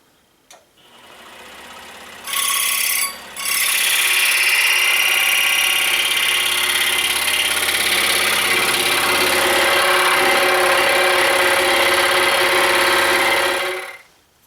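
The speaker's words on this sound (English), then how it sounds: "we now have our kerf cut in our block with the bandsaw" A bandsaw cuts a kerf into a wooden block for a drill press depth stop, a loud, steady mechanical whine running for about thirteen seconds with a brief dip early on before it stops.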